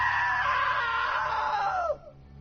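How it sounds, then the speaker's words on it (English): A long, loud, shrill scream from the video game What Remains of Edith Finch, sustained for about two seconds before it cuts off abruptly, leaving a low background hum. "Now that was a great scream."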